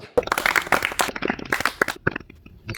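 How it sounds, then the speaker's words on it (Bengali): A crowd of children claps during a village prize game in which players try to line up three pieces in a row. Dense, uneven clapping bursts fill most of the stretch, then thin out into scattered claps near the end. "একটি করতালি দাও"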